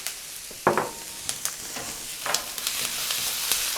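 Peppers and onions frying in a pan, soft continuous sizzle broken by sharp clatters and scrapes as they are stirred, fairly quiet and close.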